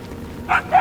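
Two short, sharp dog barks ring out in quick succession over a low ambient background in the Guardians of the Galaxy video game, fairly close and distinct.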